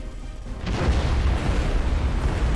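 Torpedoes strike ships in Battlefleet Gothic Armada II, a heavy boom that breaks in after a short quiet lead-in and rolls on as a dense, sustained rumble of explosions.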